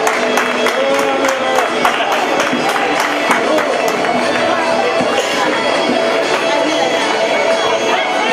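Steady applause and crowd noise for race winners at an awards ceremony after a San Silvestre road race, clapping held loud and continuous under a voice talking over a public address.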